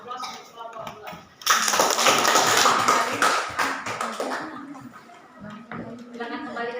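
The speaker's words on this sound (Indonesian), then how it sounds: "Kita berikan aplaus untuk kelompok 2" Classroom group applauding a student group after their presentation, a burst of clapping from many hands that swells then fades, with voices talking over and after it.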